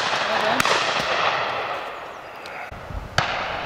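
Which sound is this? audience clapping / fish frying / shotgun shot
shotgun shot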